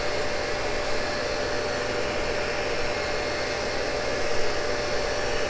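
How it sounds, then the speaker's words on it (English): A Cincinnati tool and cutter grinder runs with a steady, even, high-pitched whir that holds at a constant level throughout, with no talking. "Tool and cutter grinder."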